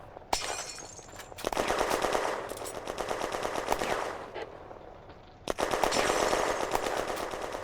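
Bursts of rapid machine gun and cannon fire from a Renault AMC-35 tank engaging German infantry in a 1940 war video game, loud sustained rattling volleys broken by a short pause, with no talking.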